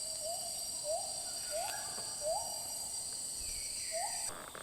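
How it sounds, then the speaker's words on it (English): Siamang gibbons call in a forest, a series of rising whooping hoots repeated about every second, moderately distant over a steady high insect drone. "So what you hear behind me, those are actually monkeys."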